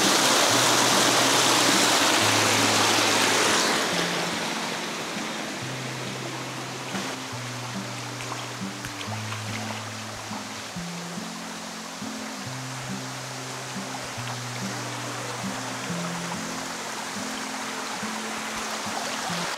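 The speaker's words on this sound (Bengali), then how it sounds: "আর এই যে মিনি ঝর্ণা বলা যায় এটাকে" A small, slippery rocky waterfall rushes loudly and steadily nearby, a dense roaring wash that briefly swells at the start, with a low droning hum underneath.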